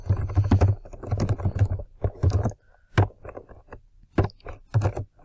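Someone types on a computer keyboard with close, crisp key clicks in quick irregular bursts and short pauses between them.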